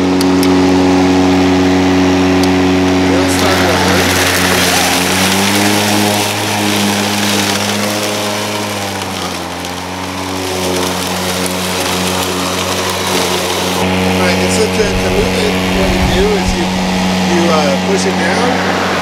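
A RYOBI 40V battery-powered electric self-propelled 20-inch lawn mower runs with a steady, loud motor hum throughout, pitch dipping briefly midway, while people talk over it.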